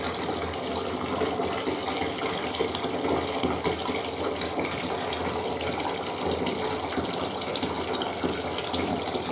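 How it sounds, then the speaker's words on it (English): Water splashing and gushing out of a tipped-over container at home, a steady, continuous rush that stays fairly loud and close for the whole stretch, with no voices over it. "Wow, look at that splashing."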